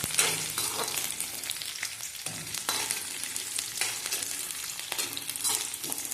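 Chopped onion frying in a pan over a low gas flame, a steady close sizzle with occasional stirring scrapes running throughout, no talking.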